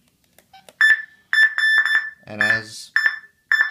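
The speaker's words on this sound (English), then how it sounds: "you can hear the siren counting off, I think it was like 5 or 6 beeps" A PiSector outdoor wireless siren for the PS03 and GS08 system emits a series of sharp, loud electronic beeps, about five in an uneven rhythm, with someone briefly speaking between them.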